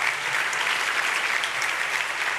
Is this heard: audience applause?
yes